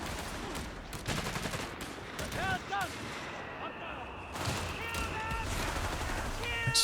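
Machine gun fire in the Company of Heroes 3 2v2 match on Hanwoomul comes as rapid, dense bursts and distant battle rumble, layered with other combat effects under steady commentary.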